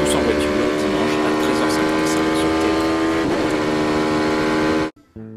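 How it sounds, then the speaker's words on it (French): Formula 1 race cars at the Singapore Grand Prix, a steady loud high-pitched engine whine sustained throughout with a voice talking over it, cutting off abruptly near the end. "de la Formule 1 pour le Grand Prix de Singapour, une des courses les plus périlleuses de la saison"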